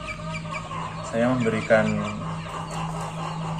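A sick chicken with a blocked crop that has not eaten for three days gives a few short, close clucks while a person speaks nearby.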